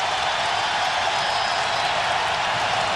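Basketball arena crowd at a 2004 college game, North Carolina against Connecticut, a steady loud roar of cheering and applause filling the space without a break.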